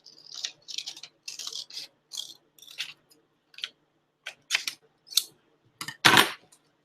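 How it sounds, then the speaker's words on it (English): Scissors cut a straight line across a sheet of paper, with about a dozen separate crisp snips coming in uneven bursts and short pauses, close up. The last snip is the loudest, and no one speaks. "We're just going to cut along this line."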